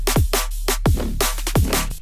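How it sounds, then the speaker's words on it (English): A gritty, mechanical neurofunk bass from the Vital synthesizer pounds in a beat, with repeated stabs that swoop down in pitch, locked to punchy drum hits in a tight, driving rhythm. "there you have the Mecha bass as it is on its own in vital, which sounds like this in the beat"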